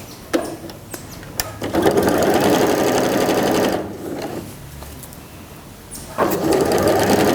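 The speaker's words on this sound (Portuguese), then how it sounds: "Costurando até o fim." A sewing machine stitches fabric strips for a quilt block, running in a steady whirring hum, close by, with a short pause and a few light clicks before it starts again.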